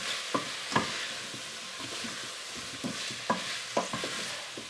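Leeks and potatoes being stirred in a soup pot, a spoon scraping and knocking against the pot in a few distinct strokes over a soft, steady sizzle.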